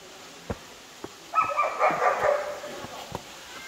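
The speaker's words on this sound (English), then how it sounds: "There's those dogs over there barking." Dogs bark in the distance near sandstone steps and a tunnel at Hocking Hills State Park in Ohio, sounding as a few sharp yips and a brief busier burst of barking amid quiet outdoor background.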